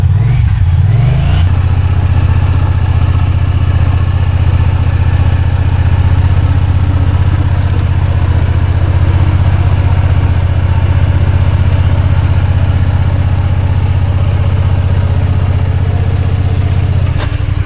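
A Pioneer 1000 side-by-side engine idles steadily to charge its battery, a loud, close, continuous low drone after a brief blip at the start, with no talk.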